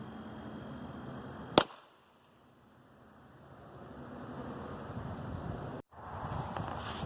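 .300 Blackout subsonic rifle round fired at cinder blocks outdoors: one sharp, fairly muted crack, then quiet wind and ambient hiss.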